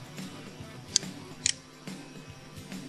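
Mouse clicks on a computer while uploading files to Google Drive: two sharp, quiet clicks about half a second apart, over a faint background hum with no talking.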